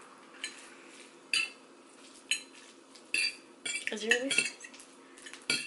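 Utensils stirring spicy noodles in sauce in a bowl, with repeated scraping clinks and clatter against the dish, moderately close; a voice speaks briefly.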